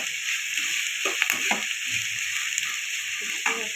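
Carrot, beetroot, green chillies, onions and curry leaves fry in oil for Maggi, a steady bright sizzle with occasional stirring scrapes and faint background sounds.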